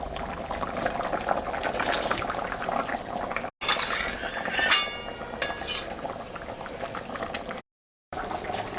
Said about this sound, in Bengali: ঢাকাটা আমি দিয়ে দিলাম, 10 মিনিট ঝোলটা ফুটুক